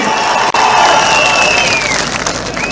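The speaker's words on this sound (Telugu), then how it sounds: "గట్టిగా చప్పట్లు చెప్పండి సాధ్యమని" A large crowd at a political rally claps and cheers in a dense, sustained roar, loud and continuous, with whistle-like tones rising through it.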